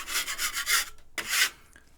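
A metal tool scrapes soft plaster in short, bright rasping strokes, several quick passes followed by a pause and then one longer scrape, close and clear.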